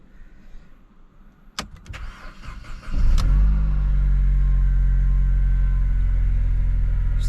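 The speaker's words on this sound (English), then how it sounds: "let's just see what the engine sounds like" A Mercedes car collected from an auction yard cranks with a few clicks and a short whir, then the engine catches and settles into a steady, loud idle close by.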